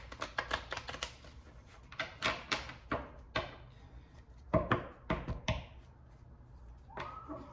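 Tarot cards are shuffled and riffled in quick clicking bursts with pauses between, close and crisp, with faint rustling.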